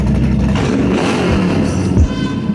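A 700 hp 1962 Chevy Bel Air Bubble Top restomod runs with its exhaust cutouts closed, giving a loud, steady, close-up low rumble that holds evenly throughout with a brief swell near the end.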